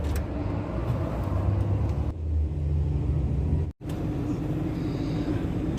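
Steady engine rumble from inside a car crawling through heavy traffic, with a brief dropout near the end and no talk.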